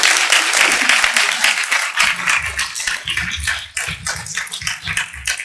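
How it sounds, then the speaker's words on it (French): Conference audience in Lyon applauding warmly, a dense, sustained wash of clapping that holds steady for several seconds, with a few individual claps standing out as it tapers slightly toward the end. "Je vais vous proposer d'applaudir très chaleureusement Johan Sfar pour commencer cette rencontre."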